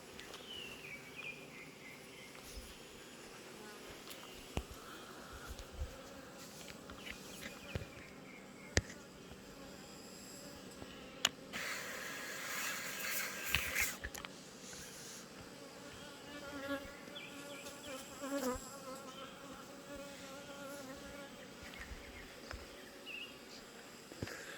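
Honeybees buzz around an apiary hive in an ongoing drone of many wings, near and steady, swelling briefly louder as bees pass close, with occasional clicks and knocks.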